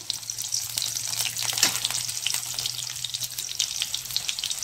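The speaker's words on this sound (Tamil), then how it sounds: "வரமிளகாவும் வத வதங்கிடுச்சுங்க" Dried red chillies sautéing in oil for a coconut kulambu, giving a continuous close sizzle with light stirring scrapes and a faint steady hum underneath.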